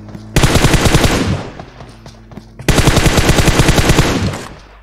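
Two rapid bursts of automatic gunfire from the mobile shooter PUBG Mobile, each a loud, close rattle of evenly spaced shots lasting about a second and a half, separated by a short pause with faint background game sounds.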